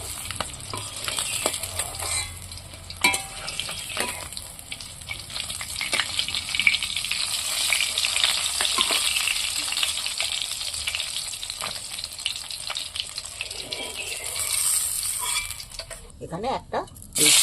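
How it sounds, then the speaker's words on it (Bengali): Fish sizzles steadily in hot oil, lightly fried rather than crisp, a dense continuous crackle with occasional metallic clinks of a utensil against the pan; a voice speaks over it. "মাছটা কিন্তু খুব কড়া করে আমি ভাজছি না, যেমন টুকটুকো করে ভাজবো, কড়া করে ভাজছি না, হালকা মাছটা ভেজেছি।"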